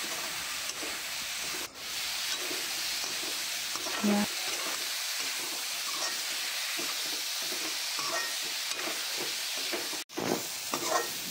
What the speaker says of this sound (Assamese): তাৰপিছত এতিয়া শুক্তাখিনি দি দিছোঁ। এইখিনি দি ভালদৰে ভাজি ল'ব লাগিব।